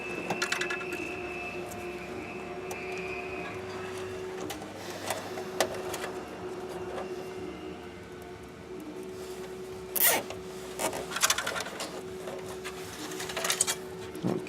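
A tie wrap cinched around cables while a HYREL3D 3D printer's power supply is swapped: a ratcheting zip-like pull stands out over a steady mechanical hum, with a few quick rasping bursts later on.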